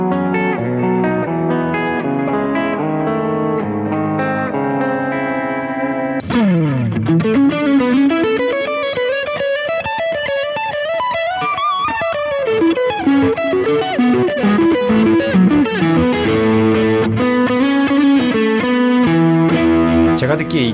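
An Enya Inspire carbon-fiber smart guitar rings out through an external effects pedal, a clean chordal passage giving way to a heavily effected, chorused and distorted sustained section with reverb, loud and continuous throughout.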